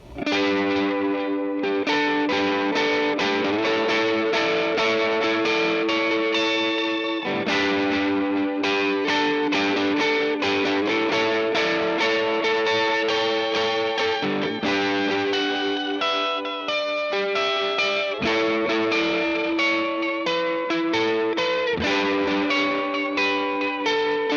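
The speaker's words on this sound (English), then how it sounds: "from lightly overdriven blues tones to spacey delay" Electric guitar through an amp, chiming notes smeared by a spacey delay and chorus, ringing out loudly with no talking.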